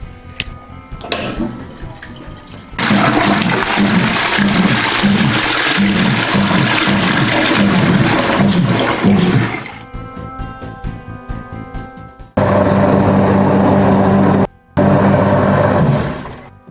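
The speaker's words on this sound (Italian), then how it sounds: "il rumore che sentite è la pompa che sta funzionando" A sewage grinder pump runs after being repaired, giving a loud, steady churning wash of water with a low mechanical hum that cuts off briefly before resuming.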